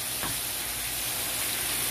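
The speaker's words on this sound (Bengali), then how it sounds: "একটু ভাজা হোক" Green chilies fry in a pan of thick curry being cooked for pangas fish with lemon leaves, giving a steady, even sizzle and hiss throughout with no voices.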